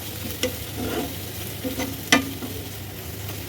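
Onions frying in a pan with chili powder and turmeric for an egg roast, giving a steady close sizzle with a few soft stirring scrapes and clicks, no voices.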